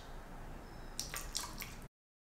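A small splash of Florida water trickles into a linen wash blend in a short burst of close, light drips and pours, then the sound cuts to silence.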